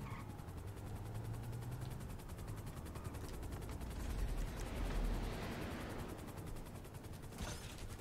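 A helicopter's rotor chops steadily in a GTA V Online soundscape, with bursts of gunfire and rumbling blasts swelling midway, no voices.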